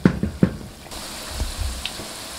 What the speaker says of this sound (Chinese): 保持小火慢慢炸制。